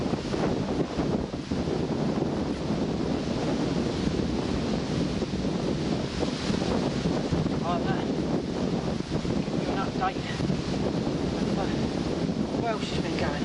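Strong wind by the sea buffets the microphone with heavy, uneven rumbling gusts. Wash from the waves sits underneath, and a faint voice breaks through briefly.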